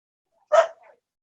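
A single short bark from a house dog, followed by a brief softer yip, isolated against silence and fairly close.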